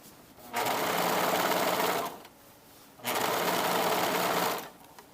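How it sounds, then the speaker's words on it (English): A serger sewing machine runs in two bursts of rapid whirring stitching along blouse seam allowances, each lasting about a second and a half with a short pause between, close and even. "So you're just serging."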